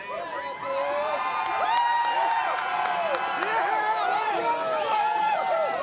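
Crowd cheering and applauding at the Iowa 2008 IndyCar race as winner Dan Wheldon climbs out of his car, a steady roar of cheers and clapping filling the scene, with voices and excited chatter mixed in.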